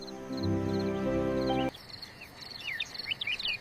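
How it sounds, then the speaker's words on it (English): A cricket chirps at night in a cartoon, repeated short high pulses following a sustained held tone, fairly faint against a quiet background. "That's a cricket."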